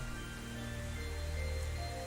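Rain ambience in the Planetarian video game, a soft, steady hiss of rainfall over a low hum, faint and continuous with no other sounds.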